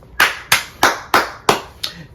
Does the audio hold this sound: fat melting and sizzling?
no